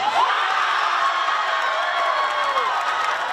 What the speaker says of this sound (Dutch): Studio K kan kort na de rust opnieuw juichen.